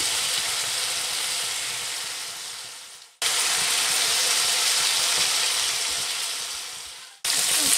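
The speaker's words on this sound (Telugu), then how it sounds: "ఇలా మొత్తం 2 పక్కల ఫ్రై చేసుకోవాలి" Afghani chicken pieces frying in a pan, a steady loud sizzle broken by two brief dips, close and continuous with no talk.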